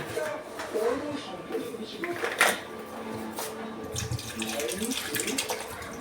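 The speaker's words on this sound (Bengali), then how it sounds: "সেদ্ধ হওয়ার মতো জল দিয়ে দিচ্ছি।" Water poured into a cooking pan over green chilli and garam masala, a running, splashing stream through most of the stretch with a few clinks of the pan and a voice at times.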